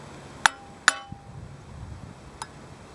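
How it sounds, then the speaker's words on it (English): A bearing press piece is tapped lightly into a wheel bearing with a hammer: two sharp metallic clinks about half a second apart, then a fainter tap a moment later, close up with no talk. "we're actually going to hammer this in lightly"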